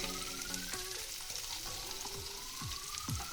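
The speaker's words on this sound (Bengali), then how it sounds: "পেঁয়াজ রসুনটা একটু হালকা ভেজে নেব" Onions and garlic sizzle gently in hot oil in a pan, a steady soft frying hiss with scattered crackles and a few scraping stirs, heard close and alone.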